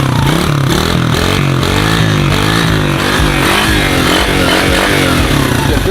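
A Chinese 125cc ATV engine revs under throttle, steady and loud at close range, a buzzy, rough drone that rises and falls slightly with no talk over it.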